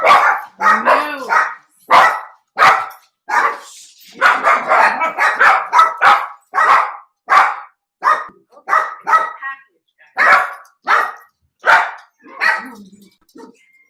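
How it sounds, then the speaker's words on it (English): Dogs bark loudly and repeatedly at a package delivery, a rapid run of sharp close barks in quick bursts that keeps going with hardly a pause, with a few whimpers mixed in. "my killer dogs have to make their presence known"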